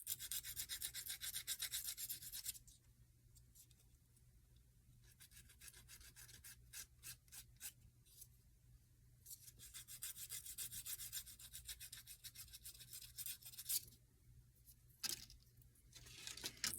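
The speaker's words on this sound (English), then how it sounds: "we'll take the nail file and we'll clean this contoured edge up just a little bit" A nail file rasps back and forth along a contoured edge of a small handmade piece, with close, dry scraping strokes in bursts separated by brief pauses, no talking.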